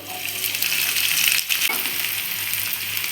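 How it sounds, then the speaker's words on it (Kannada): Steady, loud hissing sizzle of a large chopped onion frying in oil in a kadai, a dense continuous crackle close by with a brief dip midway and no talking. "ನಾನು ಅದೇ ಕಡಾಯಿಗೆ ಒಂದು ಸ್ವಲ್ಪ ಎಣ್ಣೆ ಹಾಕ್ಕೊತಾ ಇದ್ದೀನಿ ಈರುಳ್ಳಿ ಒಂದು ದೊಡ್ಡದು ಹಚ್ಕೊಂಡಿರೋದು"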